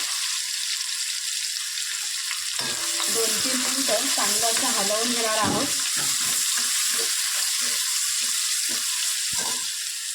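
Finely chopped onion frying in a pan for dhaba-style bhindi masala, giving a steady, close sizzle throughout, with scraping and clinking from stirring in the middle.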